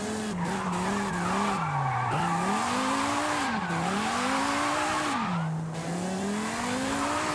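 A car in Forza Horizon 5 drifts with continuous loud tire squeal, its engine tone rising and falling in sweeping waves through several slides, with no talking.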